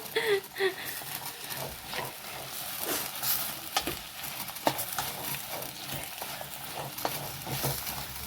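Masala for a mushroom gravy sizzles steadily in a pan while being stirred, a continuous close frying hiss broken by scraping strokes, with faint talk in the background.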